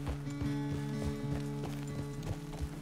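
Horse hooves clopping in the video game Red Dead Redemption 2, a steady rhythmic trot of clear hoof beats over a low, even game soundscape.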